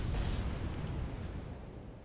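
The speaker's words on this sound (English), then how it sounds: "an M84A just had internal ammo explosion" Deep rumbling explosion of a tank's internal ammunition cooking off in the military strategy game Wargame: Red Dragon, a loud, sustained low boom that slowly fades over about two seconds.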